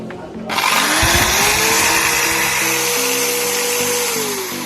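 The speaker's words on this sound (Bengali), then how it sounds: "আপনাদেরকে দেখাচ্ছি এই এখন ড্রিল মেশিনটি চালু করে" A G-TEN electric drill machine is switched on and spins up. Its motor rises into a loud, steady, high whine that holds close to the microphone, with no talking.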